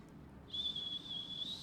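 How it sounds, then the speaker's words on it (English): A person whistles one steady, thin note that holds for about a second, quiet and alone against a faint background hum. "I'm not good at whistling"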